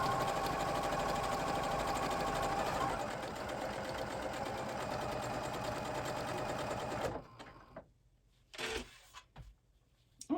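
A sewing machine stitches a pocket in a loud, fast, continuous whir for about seven seconds, then stops, leaving a few faint handling noises.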